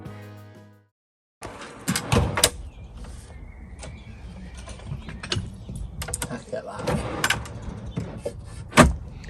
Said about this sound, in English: we've just got these heavy duty drawer slides, and they just unlock here, then you pull it out